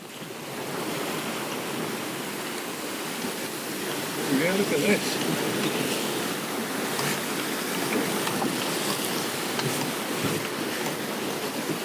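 Choppy sea in the Sound of Jura slaps and rushes around a moving sailing boat, a steady broad wash with wind noise that grows louder partway through, and a voice speaks briefly over it.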